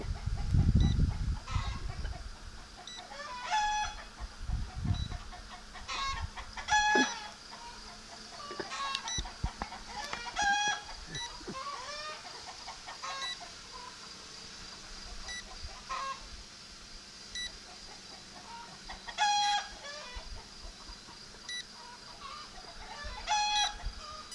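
Chickens cluck and squawk in repeated bursts, with occasional rooster-like calls and some low thumps and rustling nearby.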